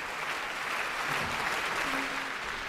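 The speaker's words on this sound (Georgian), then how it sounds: "ოკუპანტი ქვეყნის პოლიტიკური ელიტის აპლოდისმენტებით დაიმსახურა" An audience in a concert hall applauds after a performance, a dense and even wash of clapping that holds steady throughout at a moderate distance, with a faint voice or two underneath.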